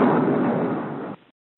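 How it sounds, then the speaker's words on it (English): Explosion sound effect for the blowing up of the warship HMS Princess Irene in 1915: a single loud, roaring blast that rumbles for about a second, then cuts off abruptly into silence. "there was a catastrophic explosion"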